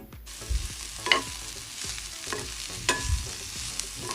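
Capsicum and onion fry in a pan over a medium gas flame, a soft steady sizzle broken by repeated scraping stirs, close and fairly quiet, with no talking.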